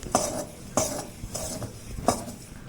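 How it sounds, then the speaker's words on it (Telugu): A turmeric tempering for brinjal fry sizzles in a pan as a spoon scrapes and stirs it in four regular strokes, close and fairly loud over a constant frying hiss. "ఈ విధంగా మీరు తాలింపులో యాడ్ చేసుకొని కొంచెం వేయిస్తూ ఉండండి"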